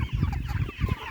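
Chickens clucking up close in a short, busy burst of overlapping low calls, steady and fairly loud throughout.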